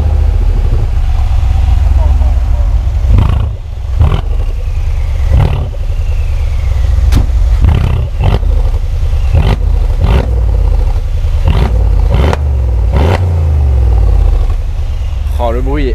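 Mansory G6X6 six-wheeled off-roader's engine turning over and revving, a loud low rumble with several sharp throttle blips and clattering bursts, with some voices audible alongside.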